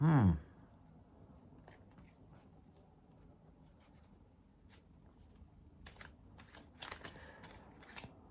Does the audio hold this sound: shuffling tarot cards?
yes